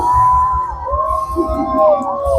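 An audience at a Halloween Horror Nights show screams and cheers, with loud, drawn-out yells and whoops rising over a continuous crowd din.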